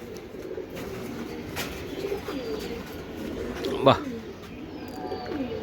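Soft racing pigeon coos sit under steady people talking nearby at a pigeon farm, with a low murmuring background throughout.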